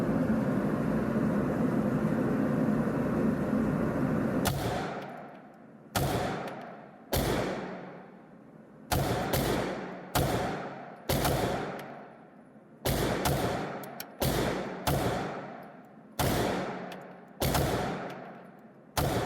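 Gunshots ring out at a shooting range as a pistol with a Primary Arms micro red dot sight is fired in a steady string: about a dozen sharp, loud reports, each with a quick decaying echo, following a stretch of steady background noise.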